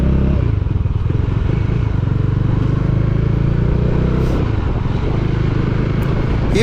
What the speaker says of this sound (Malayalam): നമ്മൾ വെള്ളത്തിൽ കൂടെ ബോട്ട് ഓടിച്ചു ഗൈസ്.